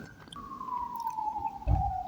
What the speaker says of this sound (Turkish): Ne zaman video açsam ambulans geçiyor.